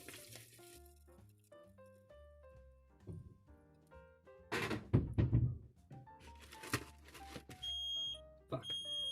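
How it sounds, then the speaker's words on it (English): A kitchen smoke alarm goes off during cooking of chicken cutlets, sounding as repeated high electronic beeps amid clattering pan and handling noises, with a louder burst of knocks midway. "Oh no, the fire alarm's going off."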